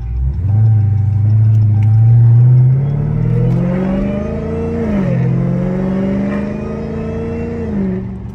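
A Chrysler Hellcat's engine revs loudly and close as the car arrives, a deep rising roar that climbs in pitch, dips briefly, then swells again, filling the whole stretch with no talk.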